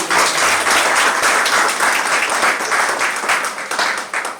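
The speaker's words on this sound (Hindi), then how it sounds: "एक बार जोरदार ताली" Loud, dense applause from an audience at a Modicare motivational event, steady and sustained for the full stretch with no talk over it.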